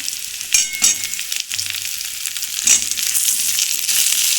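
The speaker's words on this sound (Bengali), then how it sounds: "বেগুনটা একটু ভাজা হয়ে যাবে।" Brinjal sizzles loudly in hot oil with ground spice paste, a steady close frying hiss broken by scraping stirs from a spatula in the pan.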